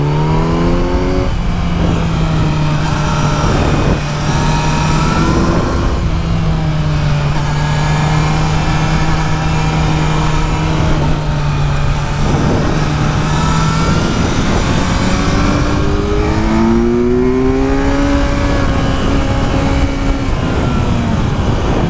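A 2017 Kawasaki Z900 motorcycle accelerates hard up a road, its engine note climbing through the revs, dropping at each gear change and climbing again, loud and close throughout with no talk over it.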